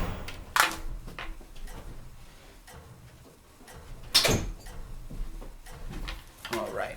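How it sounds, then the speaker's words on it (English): A door is closed indoors, with two sharp thuds several seconds apart amid quieter rustling and handling noises. "I have to close my door."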